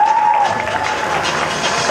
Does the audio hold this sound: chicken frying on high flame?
no